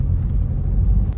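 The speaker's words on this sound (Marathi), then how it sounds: "गाडी येते" A car approaches with a brief, loud, low engine rumble that swells and holds close by, with no other sounds over it.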